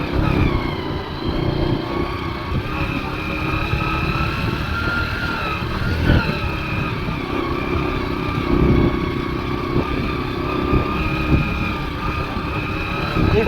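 A motor vehicle sits in a farm field with its engine running, a steady, close, throbbing drone with light clatter and a few brief surges throughout.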